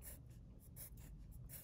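A pencil scratches on paper as a meter sign is written for a rhythm composition, several quick faint strokes in an uneven rhythm, close and quiet with no talking.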